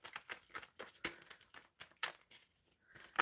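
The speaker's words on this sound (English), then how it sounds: "shuffling for March" Tarot cards being shuffled in a run of quick papery riffles and soft slaps, close and fairly quiet, with short pauses between bursts.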